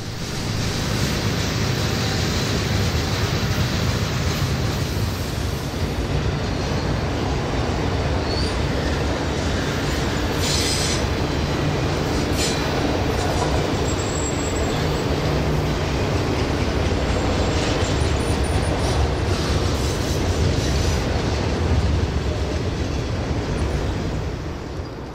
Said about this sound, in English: an eastbound BNSF intermodal train came